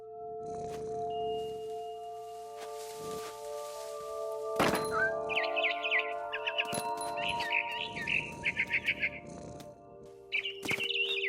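A frightened bird chirps and flutters in the video game What Remains of Edith Finch, with bursts of rustling wing flaps and thuds followed by clusters of high, rapid chirps over a steady game-music drone.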